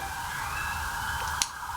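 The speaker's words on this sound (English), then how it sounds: "London sirens, the joys." A London emergency siren wails faintly from outside, a steady sustained tone through a window with a brief click near the end.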